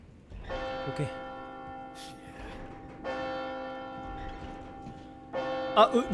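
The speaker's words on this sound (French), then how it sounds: "Donc une petite cloche comme ça." Small bell in Resident Evil 4 Remake rings out in two long sustained strikes with bright shimmering overtones that linger and decay, then a third strike begins near the end, with faint incidental noises between.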